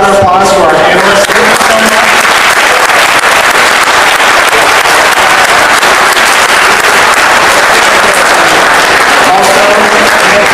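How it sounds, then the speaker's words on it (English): A conference audience claps loudly and continuously for the panel at an economics discussion event, a dense close roar of applause that starts right away and holds steady throughout. "let's give a round of applause for our panelists."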